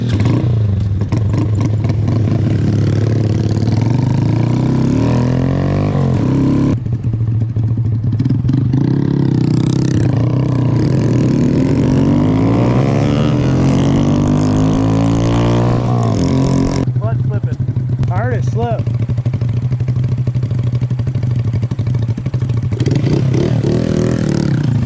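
A Honda Grom motorcycle fitted with a swapped original engine, ridden on a test ride around the block. The small engine drones loudly and continuously with repeated revving and throttle changes, heard up close with wind noise, and a voice talks over it.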